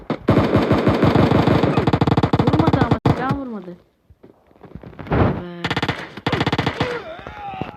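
Video game gunfire: loud, rapid machine-gun bursts crackle up close, then pause with a few thuds and mechanical clicks before more sustained automatic fire resumes.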